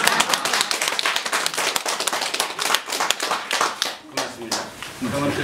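Students in a Korean acupuncture and moxibustion lecture hall break into clapping, a dense run of close, crisp hand claps that thins out toward the end, with a few voices talking underneath.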